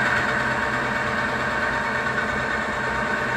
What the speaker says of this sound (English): as soon as I apply pressure to the spinning race, the first thing you'll notice is that noise